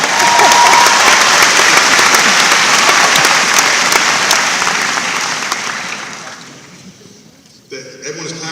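Loud audience applause fills the space at an event at Purdue, sustained for several seconds before fading away, followed by faint voices.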